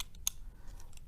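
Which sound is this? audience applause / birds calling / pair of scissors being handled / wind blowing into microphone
pair of scissors being handled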